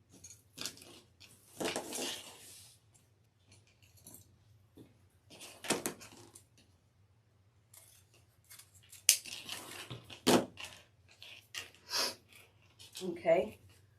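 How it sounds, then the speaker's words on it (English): Scissors snipping through ribbon for a DIY all-ribbon wreath, several crisp cuts spaced out over a low steady hum, close and clear, with brief speech-like sounds between snips. "So I'm going to cut another one."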